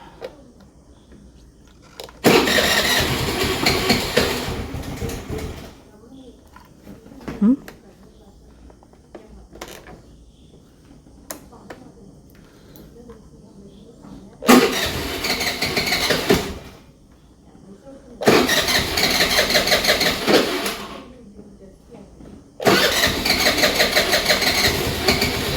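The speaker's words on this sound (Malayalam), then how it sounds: "സ്കൂട്ടർ ഒന്ന് സ്റ്റാർട്ടാക്കിയിട്ടോ" A scooter being started and run in repeated bursts, each a few seconds of loud, close engine noise, separated by quieter gaps with some background talk and handling sounds.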